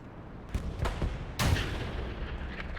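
Artillery shells fired in a WWII tank strategy game set in Hurtgen Forest, a few sharp booming reports at moderate distance over a steady rumbling battle background, no speech.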